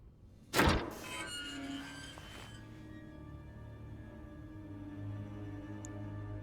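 In a video game, a combination safe door swings open with a single heavy metallic thunk, followed by a ringing, humming tail that fades into a low steady drone.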